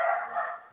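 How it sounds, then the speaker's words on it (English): Dogs barking indoors, one short, fairly close bark lasting under a second with no talking over it. "I'm sorry about the dogs."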